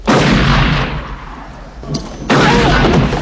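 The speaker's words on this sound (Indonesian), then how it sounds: "Will menembak Daggett tepat di lehernya menggunakan senapan milik Ned." Gunfire from the Western film Unforgiven: a loud rifle blast followed by a rumbling decay, then a second heavy boom, booming and reverberant, with no talk.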